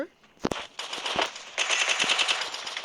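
Gunfire in a shooter video game during a headshot-only challenge: a sharp pair of shots, then rapid, loud automatic bursts crackling close and continuously.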